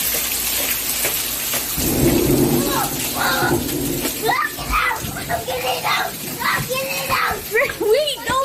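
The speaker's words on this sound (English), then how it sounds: "It's raining, it's pouring." A thunderstorm with steady rain hisses throughout, and a deep rumble of thunder swells around the two-second mark. Excited voices talk and shout over the storm during the second half.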